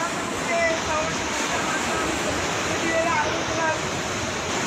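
Sea water rushing and surging into houses at a Koli fishing village in Pajpandhari, a steady loud broadband roar of flowing water throughout, without pause.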